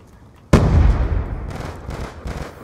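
A close, loud shot cracks out in a search and destroy match of a first-person shooter, followed by a rumbling tail and a few fainter distant shots, with no talk.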